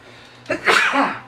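A single sharp sneeze, close and loud, with a short inhale followed by the burst, in a quiet room.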